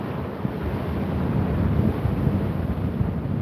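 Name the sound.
ocean waves with wind at sunrise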